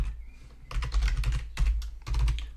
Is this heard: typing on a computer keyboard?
yes